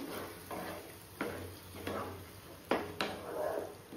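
Tomato paste cooks with spices in a pan for dal makhani, with a spoon scraping and knocking against the pan in several irregular strokes over a soft, steady sizzle.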